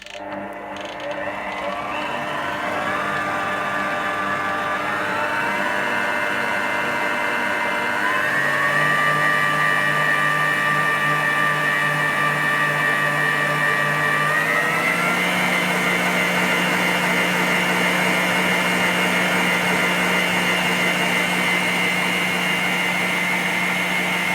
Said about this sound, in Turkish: şimdi tekrar çırpıyorum